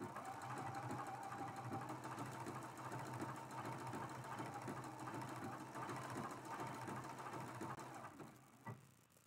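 A sewing machine stitching a T-shirt quilt runs in a continuous fast mechanical whir with a steady rapid needle rhythm, fairly quiet and close, slowing and stopping near the end with a small clunk.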